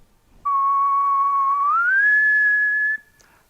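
A single clear, steady whistled tone held for a few seconds, rising smoothly to a higher pitch partway through, then stopping cleanly. No talking.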